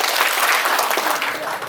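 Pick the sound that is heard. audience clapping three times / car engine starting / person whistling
audience clapping three times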